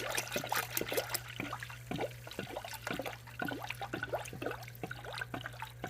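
Coolant pouring through a funnel into the radiator of a Honda J35 V6, with gurgling, bubbling glugs as air escapes, a rapid irregular burble at moderate close range over a low steady hum.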